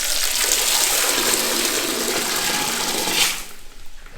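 A bucket of water pours into a Thai squat toilet in a rural village, one long close gushing flush that stops abruptly near the end.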